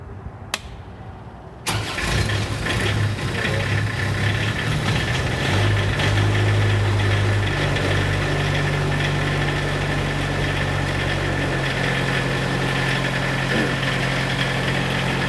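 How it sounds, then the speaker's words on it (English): Engine of a Self Generating Nitrogen Servicing Cart cranks briefly, catches and settles into a steady, loud idle around 1500 RPM, a continuous close mechanical drone with slight vibration and no talking. "Around 1500 RPMs, you want it to idle for a while, let it warm up."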